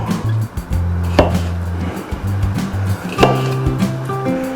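A big chef's knife knocks against a wooden cutting board as cherry tomatoes are chopped for a salmon risotto garnish, with several sharp thuds set against a low steady kitchen hum.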